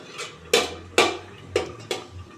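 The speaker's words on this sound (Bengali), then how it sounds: "ব্যাস, এবার ঢাকা দিয়ে দেবো, আরও 5 মিনিট ঢাকা থাকবে।" A lid set onto a cooking pot during fish cooking, heard as four sharp metallic clinks spaced about half a second apart, close and fairly loud over a low steady stovetop hum.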